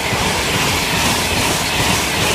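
A train runs straight through on the East Coast Main Line at Arlesey, giving a steady, loud, continuous rush of wheels and rail noise with faint clickety-clack throughout, no voices.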